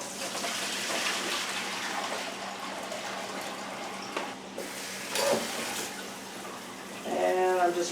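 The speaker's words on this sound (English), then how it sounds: "I'm just rinsing the salt off of the pickles" Tap water runs steadily as salt is rinsed off frozen cucumbers before pickling, a close, continuous splashing gush with a brief interruption and a louder spray near the end.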